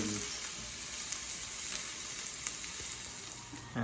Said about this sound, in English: my kitchen assistant is tossing those potatoes to make sure the potatoes don't stick to the bottom